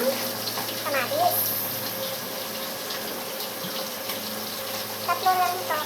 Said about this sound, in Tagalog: Buhusan natin yung tubig na mainit para mabalatan na po natin yung kamatis.